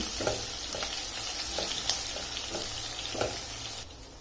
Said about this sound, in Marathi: लसण आणि अद्रक हे सुद्धा मी अगदी जाडसर खलबत्त्यामध्ये कुटून घेतलं याची बारीक पेस्ट नाही करायची याला सुद्धा थोडस परतवून घेऊ